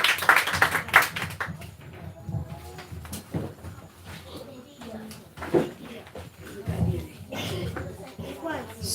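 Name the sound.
audience applauding in church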